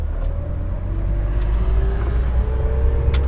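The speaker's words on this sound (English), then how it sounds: "Start moving. Now we can use the accelerator." A manual transmission car pulls away from a stop, its engine a steady low rumble with a faint rising tone as it gathers speed, heard from inside the car with no talk.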